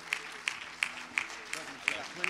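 A church congregation claps in rhythm, sharp hand claps landing about every third of a second, steady and moderately close, with a hum of voices underneath.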